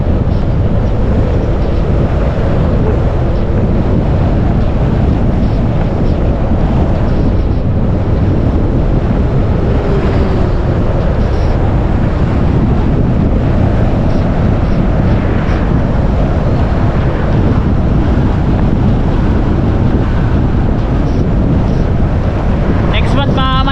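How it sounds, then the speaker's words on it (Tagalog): Strong wind roars and buffets the microphone continuously on a boat, a loud, rough rushing noise with water and boat sounds beneath it. "Ang lakas ng hangin ah."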